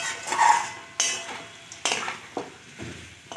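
Mutton and fat being sautéed and stirred in a pan, with a soft sizzle under several sharp spatula scrapes and knocks against the metal, spaced about a second apart.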